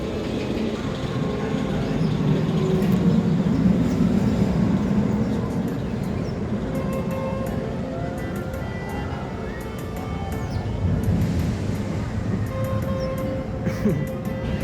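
A large roller coaster at Nagashima Spa Land in Japan rumbles along its track in a broad low roar that swells and recedes, mixed with outdoor crowd noise and people talking nearby.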